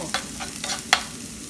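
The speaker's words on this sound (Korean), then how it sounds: "그래서 새우하고 먼저 볶을게요" Shrimp stir-fried in a pan for a milk butter pasta, with a few quick spatula scrapes and light sizzling across a short moment, close and clear, with no voices.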